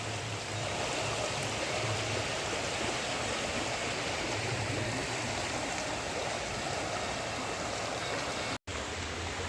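The Ganges flows past a quiet ghat at Haridwar, a steady, full rushing of water that stays loud and unbroken from start to finish.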